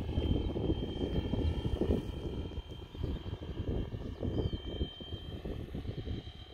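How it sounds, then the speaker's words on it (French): A Flywing UH1 radio-controlled model helicopter flies outdoors. Its rotor and motor give a continuous, fluttering buzz that pulses slightly as it moves, fairly close and with no speech. "Si j'envoie l'hélico et que je le lâche, voyez, il continue."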